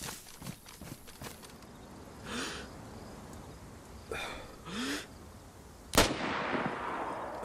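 SSG 82 sniper rifle fire in a DayZ PvP fight: a few faint, distant cracks early on, then one sharp, loud, close shot near the end over a low outdoor background.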